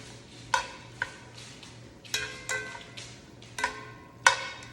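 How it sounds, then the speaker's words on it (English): Brussels sprouts and bacon tossed in bottom drippings, a series of distinct clattering spoon knocks against the pan, roughly one every half second to second, over a faint low hum, with no talking. "I'm gonna coat them very well with the bottom drippings"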